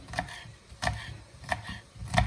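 Peppers being cut for a meat and green bean stew: four sharp, quiet knife strikes on a board, evenly spaced and a little over half a second apart, with faint room noise between them.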